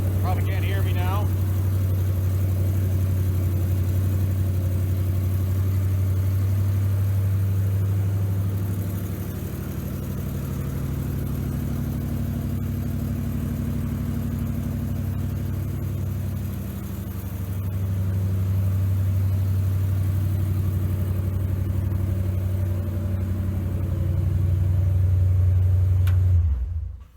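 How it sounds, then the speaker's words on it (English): A 1939 Dodge truck engine with headers idles loudly nearby, a continuous low throbbing rumble that dips slightly mid-way and swells again near the end before cutting off. "So she runs. It's loud, even with the exhaust that I have on it"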